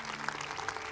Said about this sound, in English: Let's again give another great hand of applause.